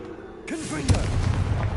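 A Confringo fire spell blast in the video game Hogwarts Legacy, a booming explosive burst with a rumbling tail lasting about a second, preceded by a brief magical whoosh.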